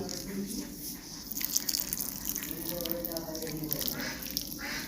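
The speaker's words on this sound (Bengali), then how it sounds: "বীজগুলো ভালোভাবে দিয়ে হয়ে গেলে আমরা ঢেকে এবার জল দিয়ে দেব" Water poured over freshly planted and covered amla seeds in soil, a steady close trickling and splashing under a voice speaking throughout.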